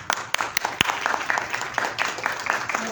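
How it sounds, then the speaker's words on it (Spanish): Sparse applause from a small audience at a lecture, scattered individual claps with a few sharp close ones standing out, fairly quiet and thin over a short stretch. "Vamos a darle un fuerte aplauso."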